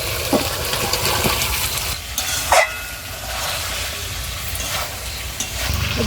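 Potato pieces drop into cooked spice masala in a kadai for Kashmiri aloo dum, giving a steady, close sizzle with a few soft stirring scrapes and no voices.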